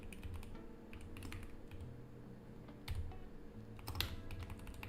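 Keys clack on a computer keyboard in uneven bursts of typing, close and fairly quiet over a low steady background hum.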